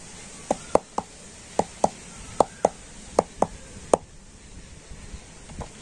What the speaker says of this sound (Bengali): আর এখন আমি এই বাটিগুলো ঠুকে আর ব্যাটারটা একটু সেট করে নেব।